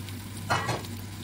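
Sliced mushrooms dropped into a pan of lightly glassy frying onion, giving a short burst of loud sizzling and stirring that settles back to a soft steady crackle.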